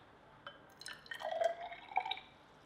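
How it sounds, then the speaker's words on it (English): Water is added to copper sulfate in a glass test tube, giving a short run of small trickles and drips with bright glassy plinks, close and faint. "then we're going to add a bit of water to that and dissolve it"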